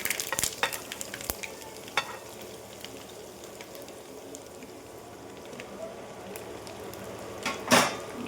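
Curry leaves, asafoetida and sesame seeds hit hot oil for spinach-fenugreek muthiya, giving a quiet, steady sizzle with a few sharp crackles and spatters near the start and a louder burst toward the end.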